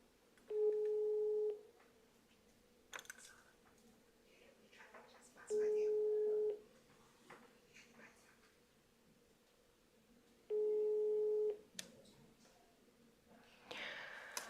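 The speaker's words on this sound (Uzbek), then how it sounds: "Ikkinchi marotaba telefon qilamiz." An unanswered telephone call gives three long ringback tones, each about a second long and roughly five seconds apart, over quiet background hiss and faint breathing.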